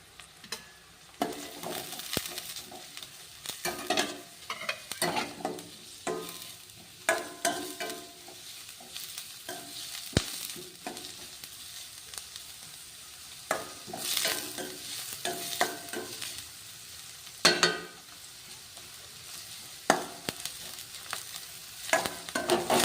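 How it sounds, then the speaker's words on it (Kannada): Cabbage stir-fries in a pan for restaurant-style vegetable noodles: loud, uneven scraping tosses over a sizzling hiss, with no talk. "ಇವಾಗ ನೋಡ್ರಿ, ಗೋಬಿ ಹಾಕ್ತಿದ್ದೀನಿ"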